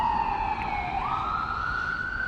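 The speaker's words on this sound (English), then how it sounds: "wait for this ambulance to go by" An ambulance siren passes near a river while people are out fishing, a faint, steady wailing tone sweeping from lower to higher pitch with no voices over it.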